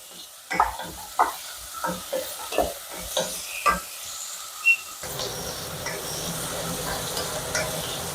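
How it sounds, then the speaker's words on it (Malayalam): Sliced onions sautéing with salt in a pan, a spoon scraping and stirring in repeated strokes over a low sizzle that grows steadier and more hissing in the second half, close and fairly quiet. "ഇത് സവാള വഴറ്റുമ്പോൾ തന്നെ ഇട്ട് കഴിഞ്ഞാൽ പെട്ടെന്ന് വഴണ്ട് കിട്ടും"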